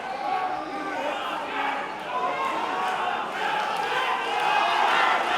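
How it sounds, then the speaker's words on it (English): A dense arena crowd at a mixed martial arts fight roars and cheers continuously, the noise swelling louder toward the end with no clear pauses. "Crowd going wild for Connor Hughes now"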